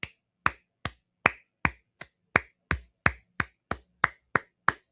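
One person claps alone, about thirteen sharp, evenly spaced claps at a brisk steady beat, close and distinct, with silence between each clap.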